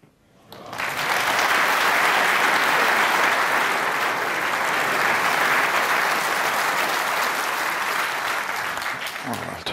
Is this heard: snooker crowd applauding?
yes